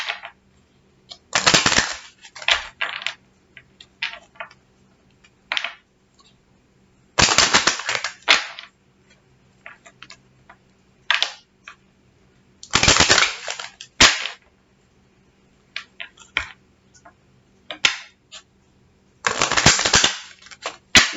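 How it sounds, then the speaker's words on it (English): Kipper cards being shuffled in bursts of rapid riffling clatter, several separate shuffles spaced a few seconds apart, close and crisp with no talk. "One more shuffle."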